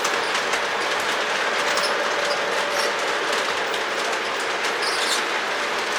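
Model trains run on a layout, giving a steady close rolling rumble of wheels on track with light rhythmic clicking and faint squeals, continuous and without speech.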